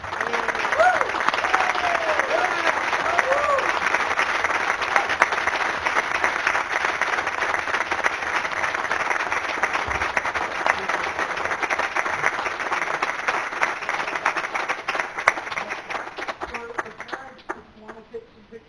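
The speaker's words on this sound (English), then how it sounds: "give you a big round of applause" A large crowd at a board meeting applauds steadily and loudly, a dense wash of clapping that holds for a long stretch before tapering off at the end.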